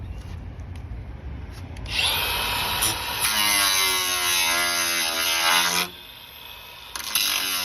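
A power tool cuts off the crash-damaged bumper of a Ford Ranger. After a quiet start it spins up to a loud, close, sustained high whine lasting about four seconds, stops abruptly, then gives a brief restart.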